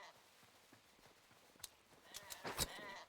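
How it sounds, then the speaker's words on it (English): Sheep being sheared in the video game Hytale, with a few quiet clicks building to a cluster of sharp snipping bursts and a brief bleat-like cry near the end, heard alone with no talking. "I'm going to see if I can't shear ourselves a sheep"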